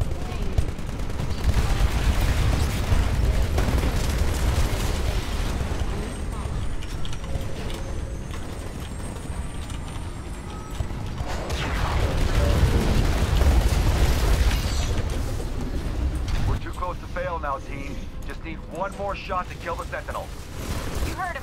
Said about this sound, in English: Spinning up the cannon for another shot.